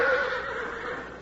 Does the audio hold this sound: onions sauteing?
no